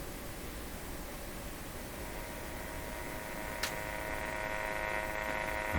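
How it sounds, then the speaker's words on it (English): A sweep signal tone from a Philco 38-C7 tube radio under test comes through as a steady buzzing hum with a faint hiss, unchanging throughout, with one brief click near the middle. "Well, that's the sound of the sweep."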